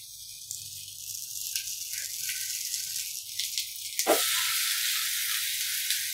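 A wheat flour vegetable pancake sizzling in a little oil on a pan over a low gas flame, a steady close crackle that swells into a fuller, louder hiss partway through.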